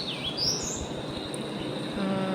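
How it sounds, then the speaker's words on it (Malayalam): A yellow and black bird calls in the rain, its thin, high chirps and whistles coming from a short distance over a steady hiss of rainfall, with no one speaking. "ഒരു മഞ്ഞ കളറും കറുപ്പും കൂടെ ഉള്ളൊരു കിളിയാണ്."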